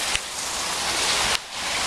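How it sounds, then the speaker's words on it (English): Heavy rain during Hurricane Isaac in 2012, a dense close roaring wash with brief gusty surges, no talking. "rain, go away, coming back another time"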